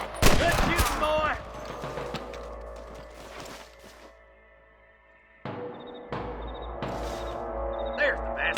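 Gunfire in the Western video game Red Dead Redemption: a dense opening burst of loud overlapping shots, a lull with scattered reports, then renewed volleys near the end, with shouted voices over the fighting.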